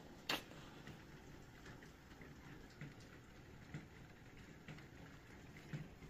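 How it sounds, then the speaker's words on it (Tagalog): Rain falling outside a home, a faint, steady patter with occasional louder drips and ticks on a surface, heard from indoors without talk. "Umuulan sa labas, umuulan."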